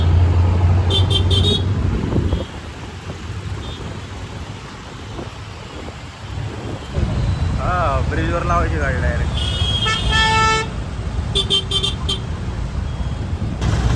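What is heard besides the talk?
road traffic with car horns honking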